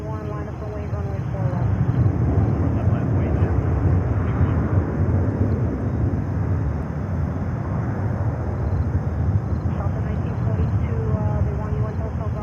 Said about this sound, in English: we have China Airlines, China Airlines Cargo coming up